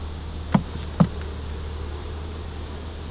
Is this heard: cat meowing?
no